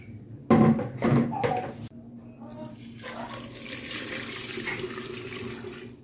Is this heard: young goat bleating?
no